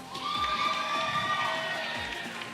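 Crowd at a live esports league finals event, a sustained roar of cheering and shouting voices from many people filling the hall, with no pauses across the few seconds.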